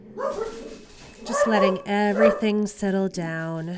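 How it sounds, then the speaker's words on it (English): Dogs bark in the background of an indoor yoga session, mostly buried under a calm spoken voice giving breathing cues. "Apologies if you can hear my dogs barking in the background"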